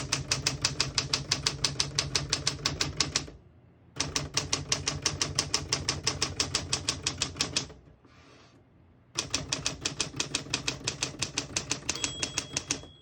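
Typing on a 1963 Smith-Corona Classic 12 portable typewriter, with rapid, even key strikes in three bursts separated by short pauses and a quieter carriage movement. Loud and close, with no talking.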